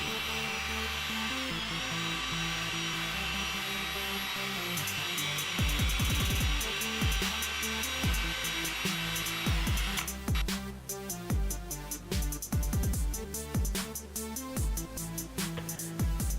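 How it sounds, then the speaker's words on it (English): A car headlight lens being sanded with 800 grit sandpaper gives a steady, close, gritty rubbing and whirring that runs continuously with no talking. "Go through and sand the headlight just like you did with the 500 grit."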